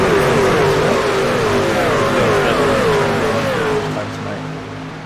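Racing trucks in a video game at Daytona roar together in a dense, loud engine drone as the pack gets underway, several rising whines overlapping before the sound eases slightly near the end.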